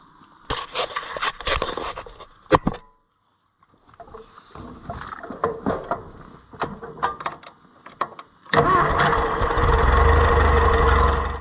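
A Ferguson 30 tractor is moved toward a shed, with clanks, scrapes and bumps before a brief silence, then the engine starts and runs in a loud, steady low rumble close by.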